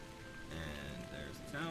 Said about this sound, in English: It's still raining the entire time you get to town.